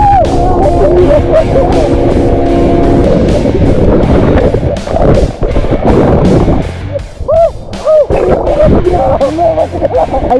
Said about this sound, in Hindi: ये बोट हमको खींच के लेके जाएगी।